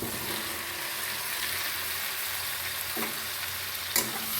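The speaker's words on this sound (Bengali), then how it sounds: "এবার আমি আলু ফুলকপিটা দিয়ে দিচ্ছি" Potato and cauliflower pieces going into hot spiced oil in a pan, giving a steady, loud sizzle with occasional stirring scrapes and a sharp clatter near the end.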